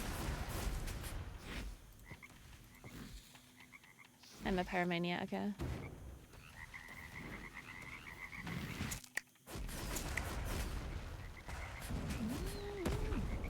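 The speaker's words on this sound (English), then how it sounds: "my frogs are ready as well" Frogs croak in the Fellowship fantasy video game, a brief burst of throaty croaking rising over steady game effects, while someone talks over much of the action.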